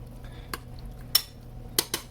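A utensil mixing tuna in a dish over a quiet background, with several sharp metallic clinks and taps against the container spaced irregularly and heard up close.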